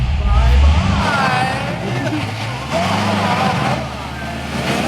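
A tuned Corvette Z06 with over 350 wheel horsepower added pulls away on a test drive, its loud, deep engine rumble rising and shifting in pitch throughout.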